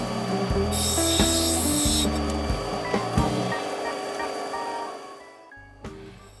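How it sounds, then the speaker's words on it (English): An opal of treated Andamooka matrix being ground on a 100 grit wheel on an arbor, a buzzing motor hum broken by repeated scraping, rasping bursts of stone against the wheel, ending as the motor winds down. "So I'll use my 100 grit wheel on the arbor to take off that corner"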